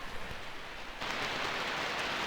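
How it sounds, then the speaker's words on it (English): Steady synthesized rain ambience from the 1994 DOS video game Dreamweb, a soft hiss that grows louder and denser about halfway through and then holds as an even, continuous wash with no voices. "Hey, look, a nice little rain effect."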